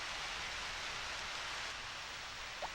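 Rain falls in the video game Harvest Moon: Back to Nature: a steady, even hiss of downpour, loud and unbroken throughout, with one tiny click near the end.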